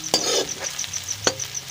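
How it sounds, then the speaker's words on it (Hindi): Ginger, green chili and garlic fry in a pan: a quick pair of close spatula scrapes and taps over a low, even sizzle of oil, lasting under two seconds. "अब हमें इसे 5 मिनट तक हमें इसे अच्छे से फ्राई करना है।"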